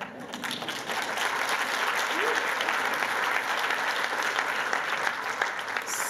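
Conference audience at a gender equality event breaks into applause, the clapping swelling after a softer opening and holding steady and dense through the rest.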